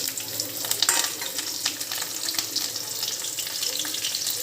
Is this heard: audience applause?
no